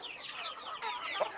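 Farmed chickens cluck in a run of soft, overlapping calls, with one slightly louder cluck near the end and no voices.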